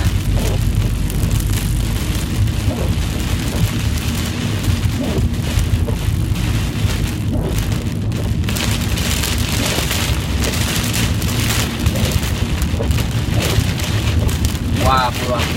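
Heavy storm rain pounding on a vehicle driving home on a dark road, a dense steady hiss and drumming with low road rumble and occasional wind buffeting, continuous throughout.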